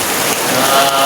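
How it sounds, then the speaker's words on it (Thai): Heavy rain pours down during a Buddhist Lent almsgiving morning in Laos, a dense, loud hiss of drops striking surfaces that fills the whole moment without pause. "ฝนตกเม็ดมือเลย"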